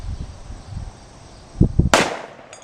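A single sharp report from a .45 caliber handgun cracks out loud and close, preceded by a few soft thumps and followed by a fading ring; no speech.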